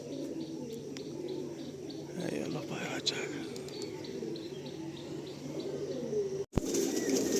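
A flock of pigeons flies off from a loft, their wings flapping in bursts over a steady outdoor hum, with faint coos and chirps and a sharp knock near the end.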